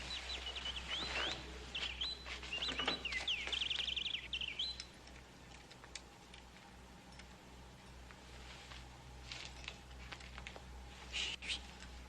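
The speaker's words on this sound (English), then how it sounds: "Bird happy. He sing." A caged songbird sings bright, warbling chirps and trills, loudest early on and then fading to scattered tweets over a steady low hum, with no voices.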